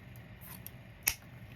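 Scissors make a single crisp snip through ribbon while trimming a fall wreath bow, a short close cut standing alone against a quiet room with no talk.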